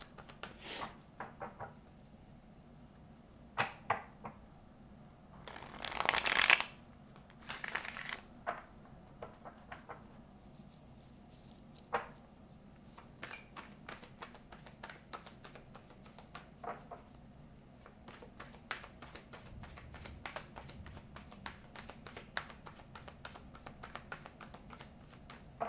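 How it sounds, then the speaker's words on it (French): Tarot cards being shuffled by hand, a loud riffling burst near the start followed by soft, scattered card taps and slides throughout, with no talking. "On va faire un tirage en 5 cartes, donc qui sera recouvert par d'autres tarots."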